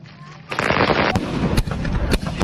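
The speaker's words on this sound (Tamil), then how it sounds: "சரி வெடி அங்கே வச்சு போட்டு போமா." Dense, rapid crackling bursts of firecrackers going off close by, sharp loud pops overlapping continuously after a quieter start with faint voices.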